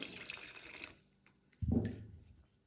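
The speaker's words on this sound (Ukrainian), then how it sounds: "Додаю воду." A brief splash and gurgle of water being poured into pizza dough ingredients in a container, close by and short, after a moment of faint hiss.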